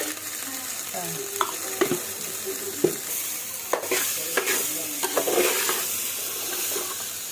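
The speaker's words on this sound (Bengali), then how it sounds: "এই যে একটু চিনি দিয়ে দিলাম আবার।" Sugar sprinkled into hot oil for chicken biryani sizzles and fries steadily, with scattered stirring clicks and scrapes of a spoon against the pot, close and fairly loud, no talking.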